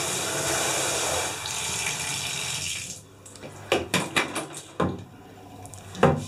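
Steady running slightly warm tap water pours into a basin for about three seconds, then stops, followed by a few sharp clatters and knocks.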